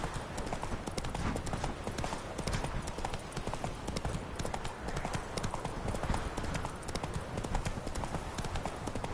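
A horse's hooves clip-clopping in The Witcher video game, a steady close rhythm of hoofbeats at a walking gait continuing throughout with no one speaking.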